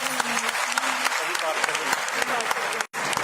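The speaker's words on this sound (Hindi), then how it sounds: "आप सबके लिए जोरदार तालियां।" Women at an honour ceremony applaud at a political gathering, a bright rattling burst of claps with a voice speaking over it and a brief dropout near the end.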